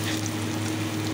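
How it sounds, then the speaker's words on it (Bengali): Fish and cut potato pieces frying in hot oil make a brief, even sizzling hiss at moderate volume, with no other sounds. "চলো আগে মাছগুলো ভেজে নিই।"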